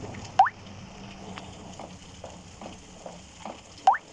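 Water dripping from a roof in the game Dentures and Demons: sparse, irregular drops, a couple of louder plinks among fainter ones, over a quiet ambient hum.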